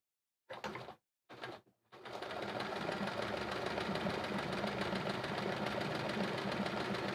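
A few short bursts of a sewing machine doing free-motion quilting give way to a continuous, steady running stitch that carries on close and even.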